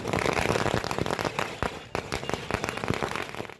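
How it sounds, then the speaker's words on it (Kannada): Firecrackers burst at a celebration by villagers in Bilagi after compensation was fixed for land acquisition, with rapid, dense cracks and pops in continuous irregular volleys and no talk. "ಬೀಳಗೆಯಲ್ಲಿ ಸಂತ್ರಸ್ತರು ಪಟಾಕಿ ಸಿಡಿಸಿ ಸಂಭ್ರಮಾಚರಣೆ ಮಾಡಿದ್ರು"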